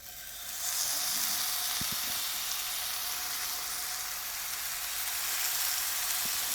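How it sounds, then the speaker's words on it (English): Food sizzling in a hot pot, a steady, bright hiss that swells in after a moment and holds level and close throughout, with a couple of faint knocks underneath and no voices. "You're going to hear that nice little sizzle that I love to hear"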